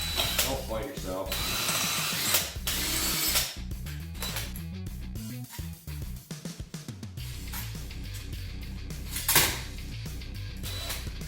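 A step drill bit bores a hole through aluminum sheet for a custom battery hold-down, giving bursts of grinding, chattering cutting noise with brief pauses and a sharp peak near the end, all close and loud.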